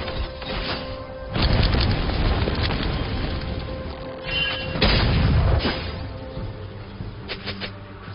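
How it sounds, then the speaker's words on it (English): Inhibitor destroyed in League of Legends, with two heavy crunching, splintering blasts and a rumbling crash, each swelling loud then decaying, over continuous game ambience and small clicks. "Inhibitor has been destroyed."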